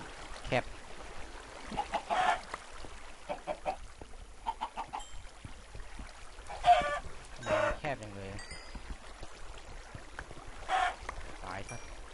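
Several chickens cluck and squawk in the Minecraft video game. The calls come in scattered bursts over a quiet background and are fairly close.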